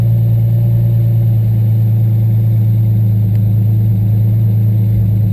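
A modified 1990 Isuzu Trooper engine idles steadily, a loud, close, even low rumble with no breaks or revving throughout.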